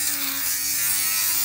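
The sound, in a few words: electric lint shaver removing sock lint from sneaker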